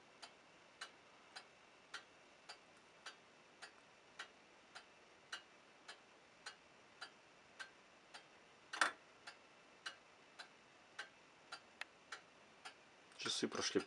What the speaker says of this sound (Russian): Сейчас посмотрим работу часов.